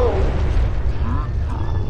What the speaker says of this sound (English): I forgot about the exploding cars.